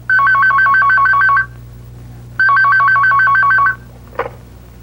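A telephone rings in a police station commander's office with a warbling electronic double ring, two loud bursts with a pause between, and a short click at the end, no talk.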